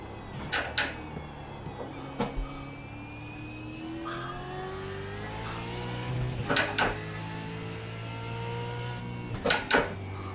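A supercar engine in a racing simulator game revving and shifting through gears, pitch climbing and falling in long sweeps, with sharp clunks from gear changes or controls scattered through a steady droning backdrop.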